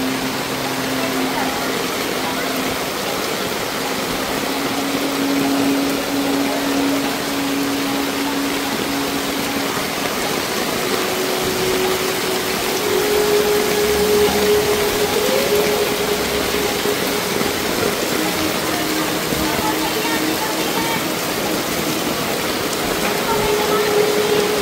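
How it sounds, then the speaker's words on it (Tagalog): Heavy typhoon rain pours in a dense, continuous hiss with no break, a loud steady wash of water over everything in a flooded Philippine street. "patuloy pa rin na lumalakas ang ulan at parang walang balak tumigil"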